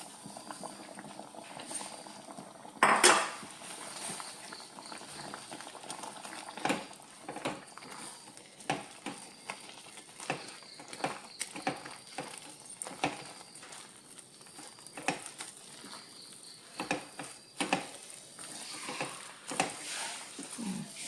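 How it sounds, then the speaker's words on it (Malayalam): Flour is stirred into salted water in a pot over the stove for a steamed snack dough, with soft liquid bubbling and repeated scraping and knocking sounds of the spoon. "തീ ഉറച്ച് വെച്ചിട്ട് പൊടി ഇട്ട് നമുക്കൊന്ന് ഇളക്കിയെടുക്കാം"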